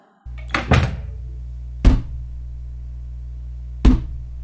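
A balcony door is shut in a hurry, giving a sharp thunk with a brief rattle early on, followed by two more separate knocks spaced about two seconds apart over a steady low hum.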